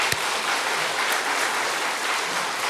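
Applause from a Korean church congregation during a Sunday service, a steady dense wash of clapping held at even loudness throughout, with no voices over it.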